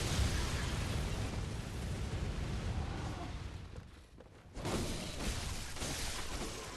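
A video game explosion erupts as a loud, sustained roaring blast that dips briefly midway and then surges again with rumbling debris, and no voices.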